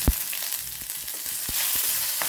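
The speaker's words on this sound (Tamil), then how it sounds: "பூண்டு வெங்காயம் எல்லாம் நல்லா வதங்கிடுச்சு" Onions and garlic sauté in a pan with a little curry leaf, giving a steady close sizzle broken by several sharp stirring scrapes and taps, with no talking.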